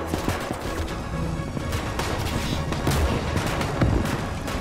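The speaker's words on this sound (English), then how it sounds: "the tanks are starting to open fire on them" Tanks opening fire in a large battle in an army men video game, with dense, continuous gunfire and heavy blasts booming together in a loud, chaotic fusillade.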